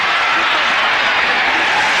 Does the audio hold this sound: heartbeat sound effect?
no